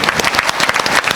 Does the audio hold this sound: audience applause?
yes